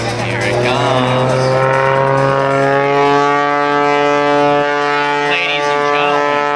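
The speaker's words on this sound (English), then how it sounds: "Ladies and gentlemen, the Fagen ethanol-powered helicopter." An ethanol-powered helicopter hovers at an air show at Andrews Air Force Base, a loud, steady rotor and engine drone with strong sustained tonal whine filling the scene, while a public-address announcer talks over it.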